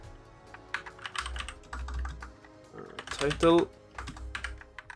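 Clicky bursts of computer keyboard typing as code is written, close and moderately loud, irregular runs of keystrokes with a voice speaking between them.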